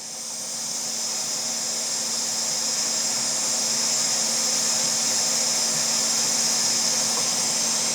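A hot air tool heating a PS4 Slim motherboard makes a loud, steady blowing roar with a constant fan hum, close by and unbroken throughout, with no speech.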